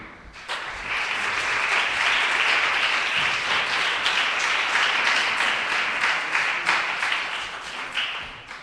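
A crowd claps steadily for several seconds, a dense wash of applause that holds even and then tapers off toward the end.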